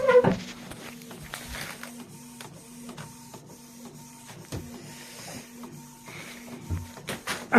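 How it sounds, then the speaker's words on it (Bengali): A printer producing passport photos on A4 paper, with a series of mechanical clicks, whirs and feed thumps in an uneven rhythm, close and moderately loud. "প্রিন্ট এখানে হচ্ছে, ফটো ব্যাস ফটো বেরিয়ে গেছে।"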